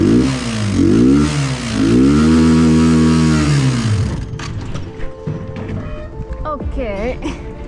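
Motorbike engine revved by a new rider, rising and falling in several throttle blips for about four seconds, loud and close, then cutting off to quieter clicks and a thin whine.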